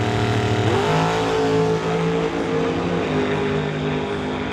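A fendered dragster's engine drones steadily at a drag strip, a continuous loud mechanical roar whose pitch shifts as it runs, heard from a distance without voices.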